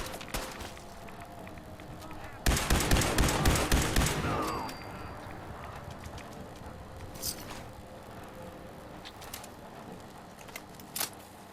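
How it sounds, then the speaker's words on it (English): Gunfire in Fallout 4: Far Harbor, a loud rapid burst of automatic shots lasting about two seconds, then quieter footsteps and a few faint isolated pops, with speech during the clip. "What are you shooting at?"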